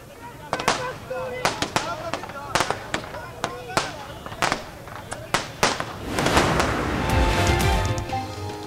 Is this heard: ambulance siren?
no